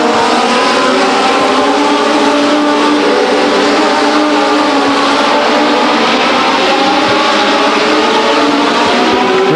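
Legends race cars racing at Stockton 99 Speedway, a loud continuous roar of several engines at high revs, tones rising and shifting as the pack circles the track, no voices over it.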